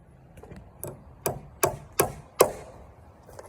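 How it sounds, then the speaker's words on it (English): A handmade claw hammer strikes wood floor framing in a series of sharp, close blows, five or six evenly spaced hits rising in force, with no talk. "I made this claw hammer that I'm using a few months back"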